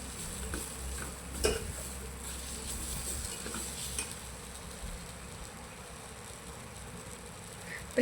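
Moringa leaves sautéed in a pan, a soft low sizzle with the scrape and clink of a spatula stirring now and then, close and fairly quiet.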